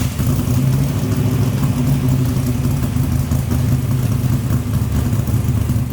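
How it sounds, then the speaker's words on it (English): A 1970 Chevy C/10 V8 with an aggressive cam, producing a loud, steady rumbling lope with a slight rev, heard close and alone, without any voices. "This thing does have a nice cam in it, so it'll get you that rumbly idle you want"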